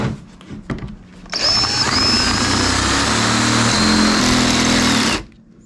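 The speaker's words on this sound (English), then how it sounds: "Get this drilled out." A power drill boring out a hole during an RV solar panel installation, one steady loud high-pitched whine lasting about four seconds, with a brief rise in pitch as it spins up, then stopping abruptly.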